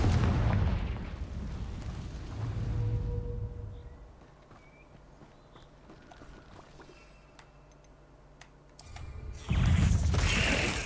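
A Confringo fire spell bursts in Hogwarts Legacy, a heavy booming blast up front, then low rumbling game ambience with faint mechanical tones before a second loud burst of fire near the end.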